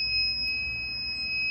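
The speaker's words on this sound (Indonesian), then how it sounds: "saat pakaian mengering, buzzer akan berbunyi" An electronic buzzer on a homemade clothes drying cabinet sounds to signal that the laundry is dry, giving a steady pure tone held for the whole moment over faint background hum.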